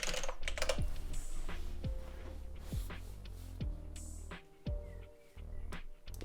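Rapid keystrokes on a computer keyboard while entering a password during a DJI Assistant 2 firmware update for a DJI Mini 3 Pro drone, with busy clicking throughout and some broader thumps and rattles mixed in, no voices.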